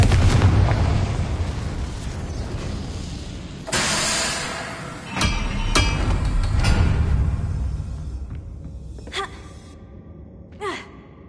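A Confringo fire spell cast in the Hogwarts video game bursts with a sudden loud blast, followed by crackling debris and further sharp impacts amid ongoing battle noise.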